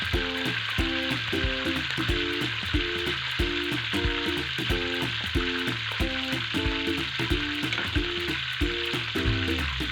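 Onions browning in oil for an aloo palak curry, a steady close sizzle running the whole time under a looping backing track of music with a regular beat.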